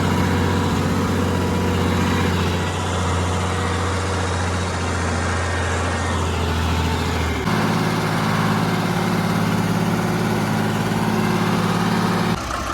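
A John Deere 2840 tractor engine running on a farm at corn planting time, a loud steady diesel drone with low harmonic throb that shifts pitch once midway, continuous and close, no voices.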